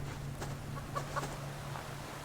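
A chicken in the survival game Subsistence gives a few short clucks mid-clip, modest in volume over a steady background hum, with no voices.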